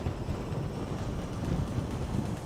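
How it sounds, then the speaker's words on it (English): Strong wind blows continuously across a scenic outdoor area, a loud, steady rumbling roar buffeting the microphone with no pause. "Despite how windy it is,"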